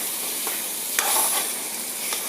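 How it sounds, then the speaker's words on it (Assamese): Rajma curry frying in a pan is stirred with a few soft scrapes over a steady, close sizzle, in a short burst. "এবাৰ লৰাই লৈছোঁ"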